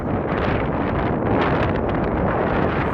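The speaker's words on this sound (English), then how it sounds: "So windy." Strong wind buffets the microphone in a dense, roaring rush, loud and unbroken throughout.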